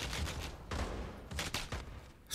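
Gunshots in the VR shooter Pavlov on PSVR2, in offline gun mode: a few distinct shots spaced through the moment, each a sharp broadband crack with a short tail, fairly loud and close with no talk.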